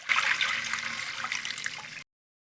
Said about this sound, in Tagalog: Magbuhos tayo ng 2 tasang tubig.